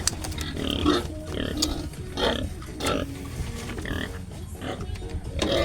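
Sow grunting in her pen, a run of repeated close grunts and snorts at an uneven pace, with a person talking now and then over them.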